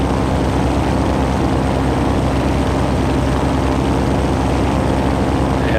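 Simulated floatplane engine in the Prepar3d flight simulator, cruising over Manhattan near Central Park: a steady, loud propeller drone with a low rumbling hum that holds constant throughout, with no talk over it.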